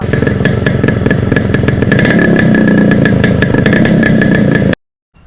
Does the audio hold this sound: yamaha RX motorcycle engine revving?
yes